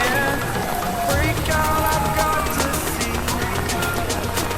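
Heavy monsoon rain pouring at night in front of a house in Odisha, a dense loud steady hiss of drops on surfaces filling the whole clip, with faint bird calls and voices underneath.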